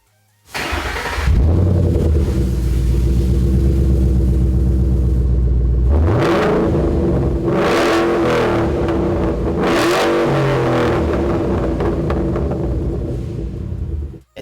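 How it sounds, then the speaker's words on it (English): A Ford Mustang GT fitted with a Flowmaster Scavenger X-Pipe exhaust starts and idles with a deep rumble, then revs sharply three times in quick succession, loud and close. "Let's hear what it sounds like with our Flowmaster X-Pipe"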